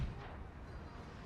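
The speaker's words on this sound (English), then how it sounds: "The cannon shot seems to be landing a little bit all over the place." Cannon fire from Napoleonic-era battle artillery in a strategy video game with the Napoleon Era Mod, heard as a dense, continuous low rumble of overlapping muffled booms that stays at a steady, moderate-to-faint level.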